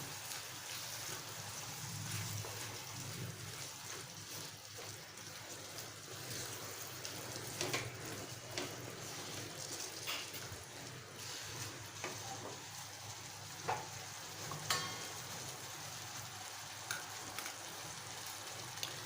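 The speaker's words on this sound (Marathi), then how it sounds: "परतून घेऊया।" Spice paste for a Malvani-style mushroom masala sautéing in a pan, a continuous soft sizzle and hiss with occasional light scrapes and ticks of stirring, steady and moderately close.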